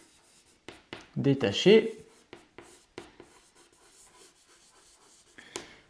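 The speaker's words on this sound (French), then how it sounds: "On va déjà l'écrire" Marker or chalk strokes on a classroom board during a French grammar lesson for upper-primary pupils, a burst of dense scratchy writing near the start, then lighter taps and strokes, all under a teacher's steady speech.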